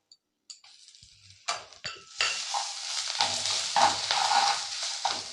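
Ginger paste goes into a pan of salt, chilli powder and cumin powder for a vegetarian banana-flower chop. A few quiet clinks of a utensil on the pan come first, then a sudden loud sizzle with continued stirring and scraping.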